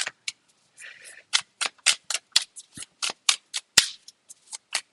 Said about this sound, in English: They're new cards, so they're not shuffling quite right yet